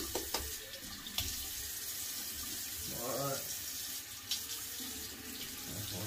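Tap water runs steadily into a sink while a razor is rinsed during a wet shave of a bald head, with a continuous hiss broken by a brief splashing change midway.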